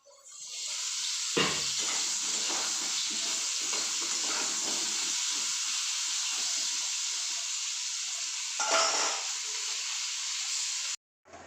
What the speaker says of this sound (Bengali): আর এই যে পটলের তরকারিটা হচ্ছে, তরকারিটা ফুটুক